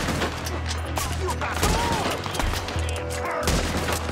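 Rapid gunfire rattles through a bank robbery shootout in the Western video game Red Dead Redemption 2, with bursts of shots and booms over a low rumble and game sounds.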